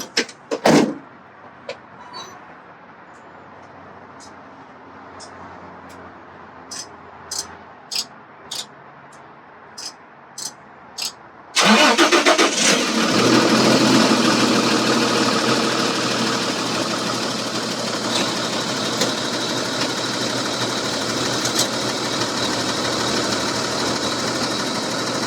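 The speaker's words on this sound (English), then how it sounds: "my truck is in neutral, I can start the truck." Inside a truck during a pre-trip inspection, a series of sharp clicks and clunks from the door and controls is followed by the engine starting abruptly and settling into a loud, steady idle.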